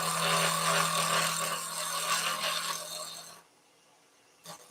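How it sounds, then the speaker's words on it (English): Skew chisel cutting wood on a lathe while a wand is turned, a continuous close scraping hiss for about three seconds that stops abruptly, followed by a brief faint rub. "I'm just gently advancing the skew with this thumb as support."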